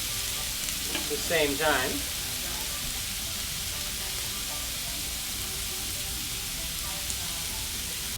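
Steak searing in a little oil in a skillet, an even, continuous frying hiss with light stirring, close and steady; a brief voice speaks near the start.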